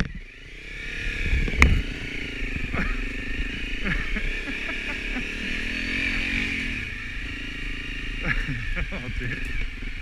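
A Honda CRF250 Rally motorcycle engine chugs along on a dirt ride, a steady mid-level drone with some clatter and wind buffeting, while a rider talks over it.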